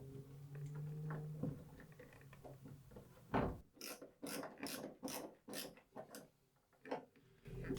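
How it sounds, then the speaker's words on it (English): Screws are driven back into the bottom of a home air-conditioning unit by hand, giving a series of close, faint ratcheting and scraping bursts in an uneven rhythm with short pauses between turns. "And now I can screw back in the bottom 3 screws here."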